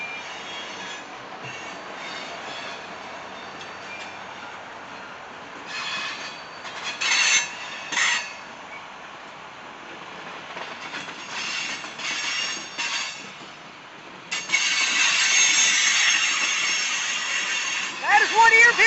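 Loaded CSX coal train led by an ES44AH locomotive in Grafton, West Virginia, its wheels squealing in piercing high screeches that come and go over a steady rumble, growing louder near the end, with voices talking.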